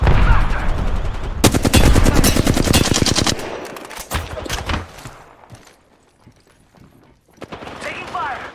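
Dense bursts of automatic gunfire from Apex Legends rattle loud and close in rapid volleys, with scattered single shots and pauses between, mixed with game sounds and some speech.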